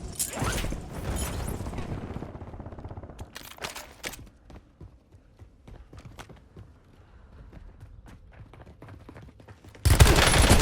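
Bursts of gunfire in Call of Duty Warzone, a heavy volley up front thinning into scattered sharp shots and mechanical clicks, then a sudden loud blast of noise at the end; no one speaks.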